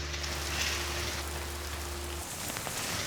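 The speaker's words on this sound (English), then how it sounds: "Good Lord, it is storming out." Heavy storm rain pours down outside a cinder-block house under renovation, a dense, steady hiss with a low hum beneath that drops away near the end, with no voices.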